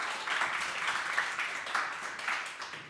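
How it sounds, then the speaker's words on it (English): Audience applause, a soft, steady patter of clapping swelling in gentle waves, fairly distant and faint, with no talk. "Give her a round of applause."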